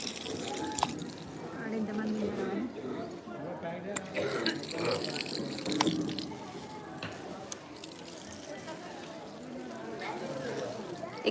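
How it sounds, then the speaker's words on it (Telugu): Water running from taps at the foot-washing area of a hilltop Anjanna temple, a soft continuous splashing and trickling under nearby people talking, with occasional clicks and knocks. "ఇక్కడ అయితే ట్యాప్లు అయితే ఉన్నాయి కాళ్ళు అయితే కడుక్కోవచ్చు"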